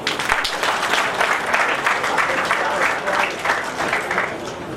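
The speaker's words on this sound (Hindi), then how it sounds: "एक ताली हो जाए।" A crowd of guests at a wedding ceremony claps together in a steady, dense burst of applause, fairly close and loud, lasting a few seconds with a faint murmur of voices.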